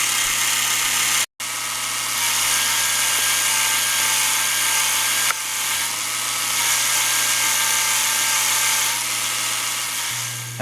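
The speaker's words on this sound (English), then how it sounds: "a Dremel tool I got, I'm just going to hit the wheels" Dremel rotary tool whirring steadily against the wheels of a Lionel postwar 50 Gang Car model train, a loud continuous high-pitched grind with one brief cut-out early on and no talking.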